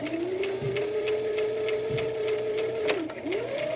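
Up close, a sewing machine whirs steadily as it stitches stretchy fabric for a knotted headband. The motor pauses briefly, then spins back up.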